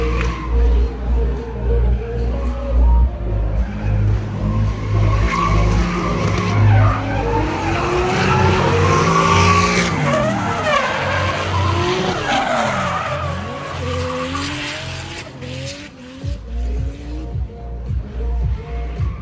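Drift car skidding on a track at an Ultimate Drift event in Londrina, long loud tire squeal with engine revving rising and falling, close by, then engine bursts as it pulls away.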